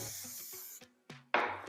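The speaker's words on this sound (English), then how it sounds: "and then spray" Hairspray misted onto a woman's short fine pixie cut after back-combing, heard as a few close hissing aerosol bursts, the longest and loudest near the end, with small handling noises between.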